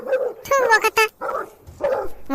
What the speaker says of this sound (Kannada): ಯಾಕೆ ಹಿಂಗ್ ಬೊಗಳ್ತಾ ಇದಾವೆ ಈ ನನ್ನ ಮಗನ ನಾಯಿಗಳು?